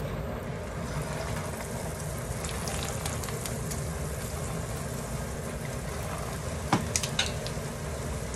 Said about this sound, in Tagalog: ipiprito ko na po yung butter chicken. Uunahin ko po munang i-fry yung chicken.